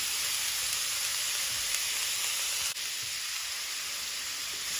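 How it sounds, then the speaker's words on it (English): Ham going all at once into a hot frying pan, giving a loud, steady, close sizzle that fills the whole stretch, with a brief scrape or knock midway. "Add the ham in all at once."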